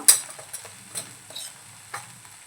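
Masala for paneer matar masala is stirred and fried in oil as it starts releasing oil: a quiet sizzle sits under about four sharp spoon scrapes and clicks spaced roughly half a second apart.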